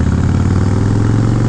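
A Harley-Davidson Dyna with Short Shots exhaust and quiet baffles idles close and loud, giving a steady, deep, lumpy exhaust note.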